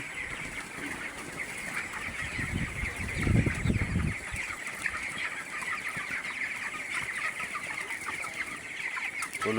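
Dense, continuous clucking from a crowd of 20-day-old broiler chickens fills the whole stretch, steady and moderately loud, with a brief louder low rustle partway through.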